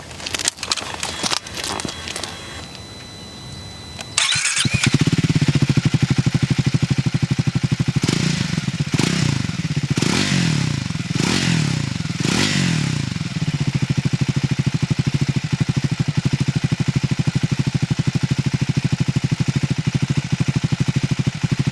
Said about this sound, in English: So here we go on the Triumph Scrambler 400X